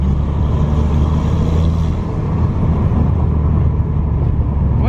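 Steady, loud engine drone and road rumble from a Citroën DS3 1.6 THP with a stage 1 tune, heard from inside while cruising along a country road, continuous and even without any talk.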